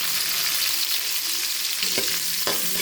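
Mustard seeds, onion, green chili and tomato sizzle steadily in a hot pan for a fish curry, a dense continuous frying hiss with a couple of stirring scrapes near the end.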